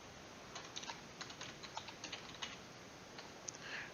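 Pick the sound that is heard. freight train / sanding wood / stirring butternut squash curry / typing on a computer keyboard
typing on a computer keyboard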